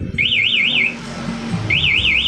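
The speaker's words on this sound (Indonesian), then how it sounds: "maka alarm atau sirine tetap akan bunyi seperti ini" A Yamaha NMAX scooter's anti-theft alarm siren wails in rapid warbling up-and-down sweeps, pausing briefly before starting again, loud and close over a low background rumble.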